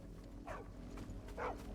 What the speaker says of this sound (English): So, the dog's barking at Chloe, I assume.